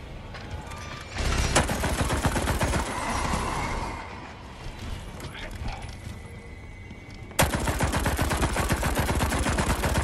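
Rapid, loud gunfire in the zombie video game Resident Evil Resistance, fired from up top at the core as dense, continuous bursts with a short lull midway.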